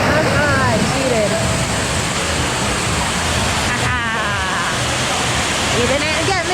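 Water park waterfall at Aquatica Orlando pouring in a steady, loud broadband rush, with excited voices and shrieks chattering over the roar throughout.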